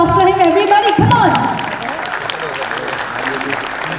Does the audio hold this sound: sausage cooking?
no